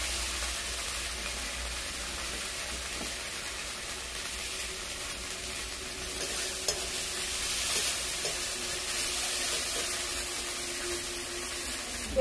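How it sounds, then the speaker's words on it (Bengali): Spice paste with ground cumin and coriander and chili powder frying steadily in a pan for a shrimp and pointed gourd curry, a soft continuous sizzle with faint stirring scrapes, no voices. "তো মশলাটা ভালো করে একটু কষানো হবে।"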